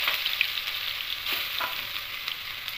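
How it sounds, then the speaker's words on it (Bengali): Crushed garlic fries in hot mustard oil with whole cumin and dried red chillies, a close, steady hiss and crackle with faint stirring, no voices. "দিয়ে একটু রসুনগুলোকে ভেজে দেব"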